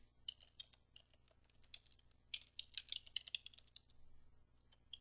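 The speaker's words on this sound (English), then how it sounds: "And on this line, we'll type in display manager in all caps." Rapid clicking keystrokes on a computer keyboard, irregular bursts of taps with a brief pause mid-way, close and fairly quiet over a low steady hum.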